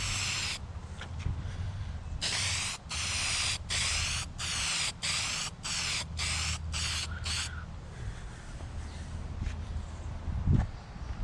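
Car being spray painted outdoors in wind, with a series of about ten short, sharp aerosol bursts in quick succession, close and hissing over low wind rumble.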